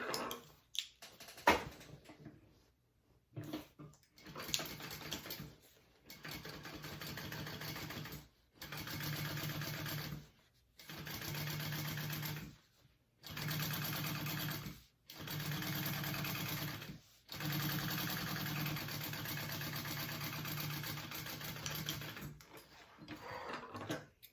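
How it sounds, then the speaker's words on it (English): A sewing machine top-stitches along a tote bag panel in a string of steady mechanical runs, each several seconds long and broken by short pauses, heard close up with no talking. "we are going to top stitch along this top panel part"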